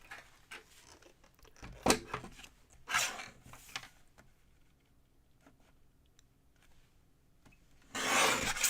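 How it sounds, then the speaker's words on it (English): Scissors or a trimmer rasp through a craft card base in short bursts, a few near scraping strokes separated by quiet gaps, with a longer rough cut at the end. "I think I need to trim this card base a little bit more."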